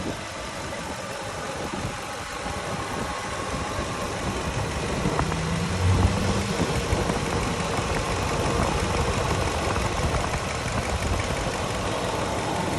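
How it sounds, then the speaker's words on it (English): A 2012 Nissan Titan SV King Cab 4x4 pickup engine idles steadily nearby, a low continuous rumble with a faint mechanical whir and no talking. "But quiet engine."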